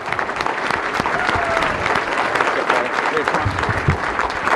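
An audience at the Nebraska Republican Convention applauds warmly, with dense, sustained clapping that fills the room at a steady level throughout, no voices standing out.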